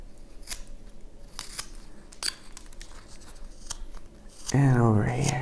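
Knife carving into a wooden wizard figure, giving repeated close scraping cuts in a steady rhythm, followed by a louder sustained rubbing or handling noise at the end.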